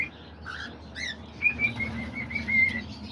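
Pet doves, budgies, cockatiels, lovebirds and homing pigeons flap their wings in an aviary cage, with a close burst of flapping followed by thin chirps and tweets against a quiet background.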